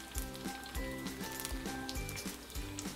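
Beaten-egg pempek dos frying in hot oil crackles with a busy broadband sizzle, partly masked by rhythmic background music.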